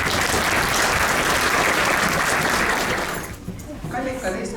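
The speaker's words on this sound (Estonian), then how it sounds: "Teeme veel ühe aplausi." Loud, dense applause fills a school graduation ceremony in Tallinn, a large crowd clapping steadily before it thins and fades toward the end as voices and scattered claps remain.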